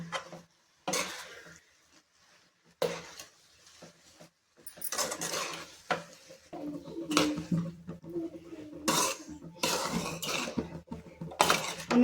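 Spices, soy sauce and salt being stirred into food in a pot, with intermittent scraping and clinking of a utensil against the pot, some strokes sharp and close, others softer, in short bursts with pauses between.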